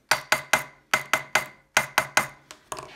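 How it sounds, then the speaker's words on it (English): Sharp metallic taps struck on the rim of a tin can used as a drum, about a dozen close, ringing hits in an uneven rhythm with short pauses, each one bright and decaying quickly, heard alone. "If I hit the rim of the tin, I've got a tap sound."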